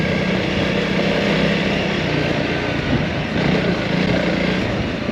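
Off-road motorbike being ridden on a riding-school course, its engine a steady, close, continuous roar with slight surges and no voices.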